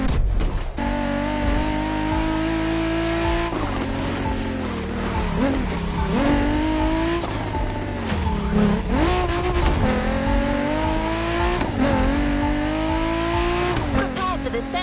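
A Mustang Boss 429 muscle car roars in The Crew Motorfest, its engine revving up and down through repeated gear changes with brief tire squeals, loud and close throughout.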